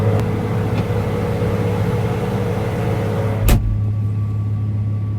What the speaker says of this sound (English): He's got to bring the pickup to the next field